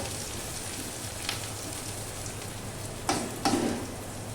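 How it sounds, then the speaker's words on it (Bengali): Onions frying in a pan with a steady wet sizzle and crackle, and a couple of brief louder clatters and hisses near the end as chopped potato and pumpkin go in. "এই যে পেঁয়াজটা একটু ভেজে নিলাম বন্ধুরা। এবার আলু আর কুমড়ো যে কেটে রেখেছি সেটা দিয়ে দেব।"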